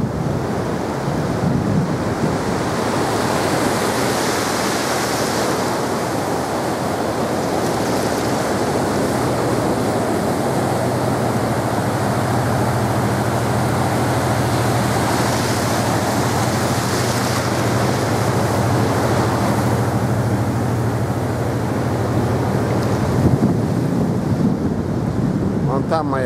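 Waves wash onto a beach by the promenade in Haifa, Israel, in slow surges, with steady background roar and wind buffeting the microphone.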